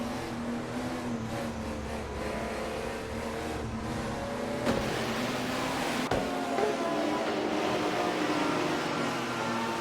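Simulated race cars in a racing video game drone and whine steadily at a moderate level, overlapping engine tones shifting in pitch as the AI-driven cars run, with no talking.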